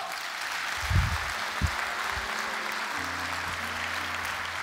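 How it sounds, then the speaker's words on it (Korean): Soft applause from a church congregation welcoming a pastor on stage, a fairly faint, steady wash of clapping with a couple of low thumps near the start. "박수로 맞이하도록 하겠습니다"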